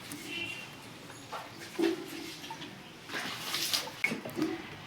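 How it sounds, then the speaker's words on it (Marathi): A small child splashes and plays with water outdoors, irregular slaps and splashes at close range, fairly quiet, with faint background sounds and no clear speech. "आणि हा इकडे पाणी खेळतोय."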